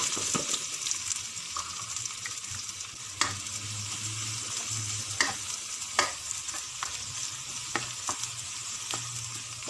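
Garlic fries in hot cooking oil for homemade spaghetti, making a constant close sizzle. Repeated sharp clacks of a utensil stirring against the pan punctuate the sound throughout.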